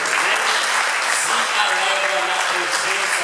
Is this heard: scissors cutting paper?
no